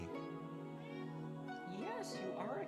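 House cat gives a couple of rising, drawn-out meows close by, heard over ongoing speech and background music.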